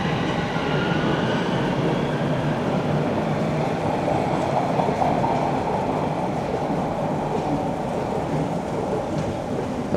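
A subway train roars through a Toronto station without slowing at close range, a loud continuous rumble with rattling and metallic screeching holding for the whole stretch without letting up.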